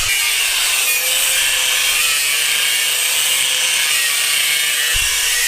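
A power tool cuts an awkward inner curve, a loud, continuous high-pitched grinding whine held steady from start to finish, with a brief low knock near the end and no talking.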